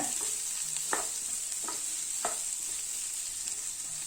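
Baby potato varuval (Tamil potato fry) stirred in a frying pan: three distinct scraping strokes of the spoon rise over a steady, close sizzle, with no voices.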